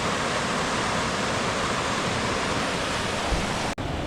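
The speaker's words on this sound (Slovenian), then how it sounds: "Pa sem že pri naslednjem slapu." A roughly five-metre waterfall on a hidden mountain stream in the Soča valley pours in a loud, steady broadband roar, close and unbroken apart from a brief dropout near the end.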